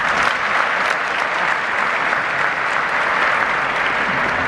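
Audience at the Marrakech International Film Festival applauds in loud, dense, sustained clapping that fills the room evenly throughout.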